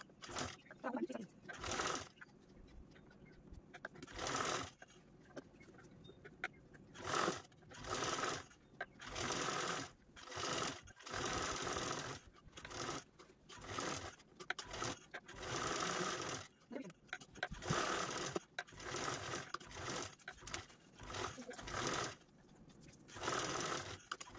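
A sewing machine stitches a saree belt lining in repeated short runs of fast, whirring stitches separated by brief pauses, with a voice talking between the bursts.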